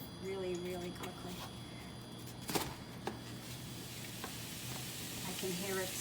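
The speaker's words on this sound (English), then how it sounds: "I can hear it sizzling. If you can hear it sizzling, the oil is hot enough." Soft, steady sizzling of beef frying in hot oil on an induction cooktop, with a few clinks and scrapes of utensils and some quiet talk in the background.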